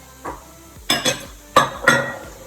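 Chopped carrots and celery are stirred around in a pot for chickpea tomato minestrone soup, giving four short scraping clinks of a utensil against the pot, fairly close, with no talk.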